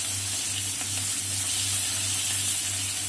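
Cut yardlong beans hit hot oil left over from frying fish, already seasoned with panch phoron and green chilli, and keep up a constant dense hiss and sizzle, loud and close, with no voices.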